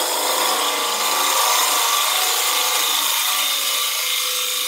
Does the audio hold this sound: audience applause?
no